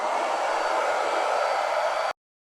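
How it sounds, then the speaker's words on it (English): Hairdryer running on its hot setting as a steady, loud whooshing blow for about two seconds, then cut off abruptly to silence. "I am going to take my hairdryer on the hot setting and just activate the adhesive"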